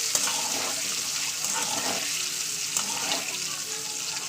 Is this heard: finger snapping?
no